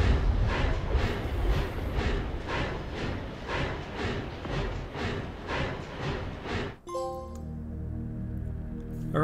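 A train in the Oddworld: Soulstorm video game rumbles with a steady rhythmic clatter for several seconds, then gives way to a ringing, bell-like chime as the rumble fades.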